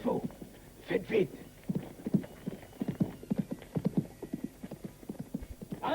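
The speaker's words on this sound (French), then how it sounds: "Là, il y a des chevaux." Several horses clip-clop along in a French-dubbed Western action film, a busy, uneven run of hoof strikes at middle distance, with a brief whinny among them.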